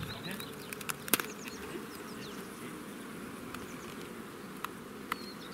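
Honeybees buzz steadily near the hives at an outdoor apiary, a dense continuous drone with a few sharper close passes and faint background voices.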